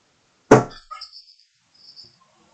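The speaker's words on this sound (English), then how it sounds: "A bird flew at full speed into the window directly in front of me" A bird flies at full speed into a window right in front of the listener, making one sharp, loud thud followed by a few faint rattling taps that fade out in an otherwise quiet indoor room.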